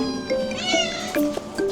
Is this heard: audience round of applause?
no